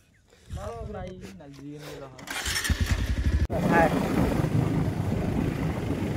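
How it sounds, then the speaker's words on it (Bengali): A motorcycle engine revving and puttering nearby on a rural road, rising to a loud steady drone after a voice speaks at the start. "তো ওই বাইকে ড্রাইভিং করছে আমাদের সাহেদ ভাই"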